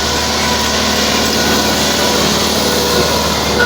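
A tractor, model 385, runs steadily while pulling a plough through a field. Its engine gives a loud, continuous, even drone with no break, and no voices are heard.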